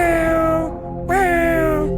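A cat meows loudly and close by, two drawn-out calls separated by a short pause, with no voices.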